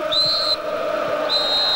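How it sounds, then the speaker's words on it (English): Referee's whistle at the end of a UEFA Champions League football match between Ajax and AC Milan, two long shrill blasts over a steady roaring stadium crowd. "And there is the final whistle."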